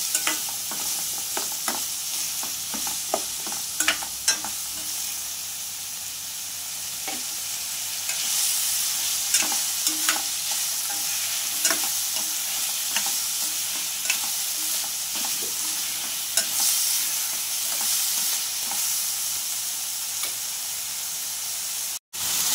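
Jackfruit seeds fry with salt in a pan, giving a continuous medium sizzle punctuated by irregular scrapes and taps as a spoon stirs them, close and steady for the whole stretch with no talking.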